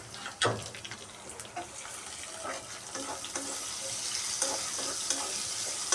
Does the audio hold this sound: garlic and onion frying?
yes